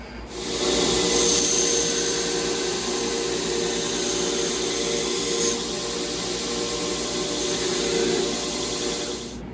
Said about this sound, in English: now we're going to thin our edge out and start with a 60 grit belt for that